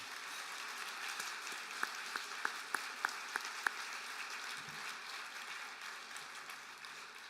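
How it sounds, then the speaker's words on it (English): An audience at the Mohawk College Celebration of Learning Awards 2018 gives a round of applause, steady soft clapping from a distant crowd with a few sharper nearby claps standing out in a short regular run. "Can you please give them a round of applause?"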